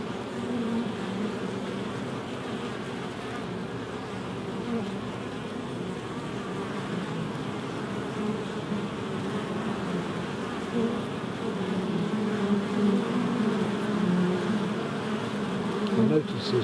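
Honeybees flying in and out of a hive in the UK during winter, a steady close droning buzz of many insects that holds throughout and grows slightly louder toward the end.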